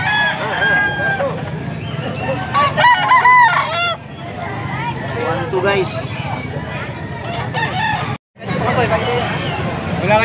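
Roosters crow repeatedly amid a busy crowd at a rooster market in Angeles City, Pampanga, with people chattering and calling out prices in the background.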